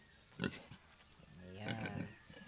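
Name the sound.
newborn piglets nursing from mother pig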